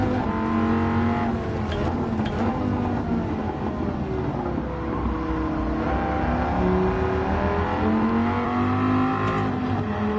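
Race cars roar through a Gran Turismo 7 race in mid-pack traffic, engines droning loud and steady with rising and falling revs and gear changes throughout, no voices over them.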